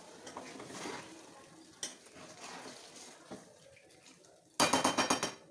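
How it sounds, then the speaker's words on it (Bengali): A spoon scrapes and clinks against a pan while chicken curry is stirred with its marinade juices, giving scattered metallic knocks. It ends in a quick, loud run of rattling clatter. "দিয়ে একটু নেড়ে চেড়ে মিশিয়ে নিচ্ছি।"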